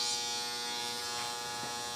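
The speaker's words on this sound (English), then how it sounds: "That is my dryer going off." A clothes dryer buzzer sounds off nearby, a steady, loud, harmonic-rich electric buzz that holds without a break for the whole stretch, with no talk over it.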